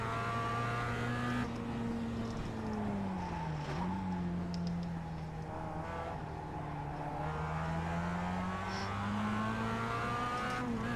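Racing car in the iRacing sim, engine droning loud and steady with pitch sagging and rising through a corner, a sharp snap of oversteer with tire noise partway through, no talk.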